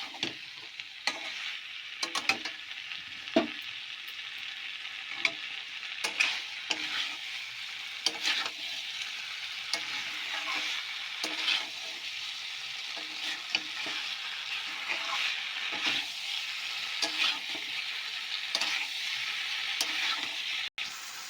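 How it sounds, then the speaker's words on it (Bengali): Mixed vegetables for Bengali shukto, eggplant among them, stirred and fried in a pan over a raised gas flame, a steady close sizzle broken by frequent scraping clatters of the spatula throughout. "সবজিটা আমি ভালো করে নাড়াচাড়া করে নিয়েছি, একটু ভাজার সবজি"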